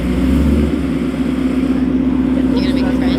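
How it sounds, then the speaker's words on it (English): A loud car idling and revving at an outdoor car meet, a deep steady engine drone up close with a slight rise in pitch, while people talk over it. "This guy's car is fucking loud."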